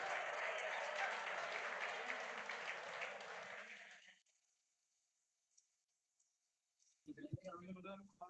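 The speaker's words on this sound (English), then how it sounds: "please give a round of applause" Classroom audience applause in an English class, a dense burst of clapping that runs about four seconds and then stops abruptly, followed by silence and a few voices.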